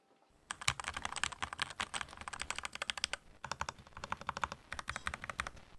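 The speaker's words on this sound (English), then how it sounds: "We're going to do a sound test of his keyboard." Typing on an unmodified computer keyboard during a sound test, a fast, steady run of close, crisp keystrokes that clatter for several seconds with a brief pause midway.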